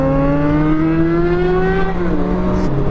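A Suzuki Gixxer motorcycle rides through a city in freezing weather, its engine droning loud and close with a steady tone that shifts as gears change.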